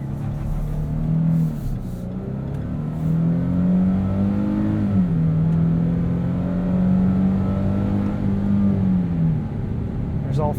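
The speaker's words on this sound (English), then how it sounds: "There's all 310 horsepower going to work for us. It's decently quick. I think the V6 sounds pretty good too." 310-horsepower V6 engine of a 2022 Nissan Frontier SV 4WD Crew Cab Short Box pulls hard from inside the cab, a steady rising drone that climbs in pitch, dips briefly at a shift, then climbs again.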